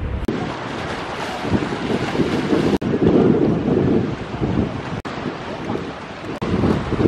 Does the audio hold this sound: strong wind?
yes